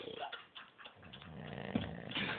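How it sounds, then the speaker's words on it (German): A man snoring while asleep clutching a beer bottle, heard as faint, rough, rumbling breaths with a guttural rasp across the whole short stretch. "Er macht halt, schnarcht halt"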